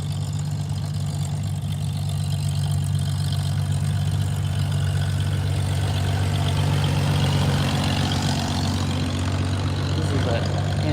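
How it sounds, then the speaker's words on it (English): An antique tractor engine runs at a tractor pull in Sidney, Ohio, a loud, steady low drone with constant rumble throughout, close by, with background noise over it. "This is antique tractor pulling."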